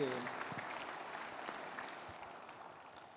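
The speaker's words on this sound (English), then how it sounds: "So let us clap for them" A church congregation claps together during a service, a dense, steady wash of applause at moderate level that slowly fades over a few seconds, with a little voice mixed in at the start.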